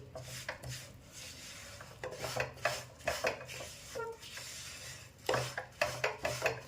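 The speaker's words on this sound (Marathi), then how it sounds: "तीळ आहे ते पाकमध्ये चांगले मिक्स झाले आहे" Sesame seeds being stirred into hot jaggery syrup for chikki in a pan, close scraping and rasping strokes of a spoon against the pan in an irregular rhythm, fairly quiet.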